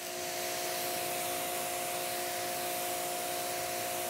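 Water spray rinses shampoo off a car panel, a steady loud hiss running throughout with an even, unbroken texture and no voices.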